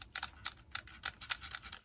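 Dull, flat thuds from a faulty Xbox 360 controller bumper button being pressed repeatedly, about eight soft muted presses in quick succession, close up and quiet, with no voices.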